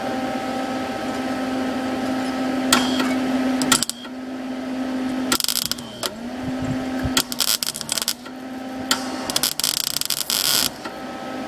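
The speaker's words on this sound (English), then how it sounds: "I'm going to go ahead and get started welding." MIG welder laying beads on damaged flanges of a 1966 Mustang during restoration. Intermittent bursts of close, harsh crackling sit over a steady electrical hum, with short pauses between welds and no talking.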